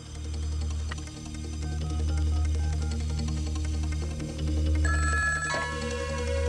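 A telephone bell rings in steady, repeated bursts over a low, continuous background hum, loud and close, with a shift in tone near the end as the ringing changes.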